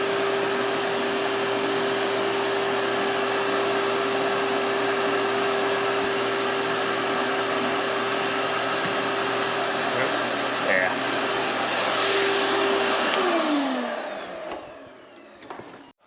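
A shop vacuum hums loudly and steadily at close range during work on a Wolfe Ridge Pro28C ice machine, then winds down as it is switched off near the end.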